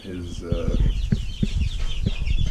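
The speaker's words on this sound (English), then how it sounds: "Travis is getting Americana chicks again for his" Americana chickens clucking in a homestead chicken coop, a steady run of close, overlapping clucks and short calls with some background voices.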